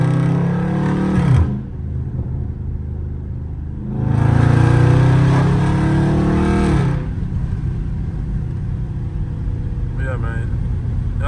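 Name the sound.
Dodge Scat Pack downshifting in track mode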